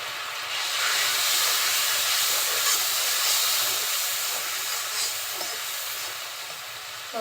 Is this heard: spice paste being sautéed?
yes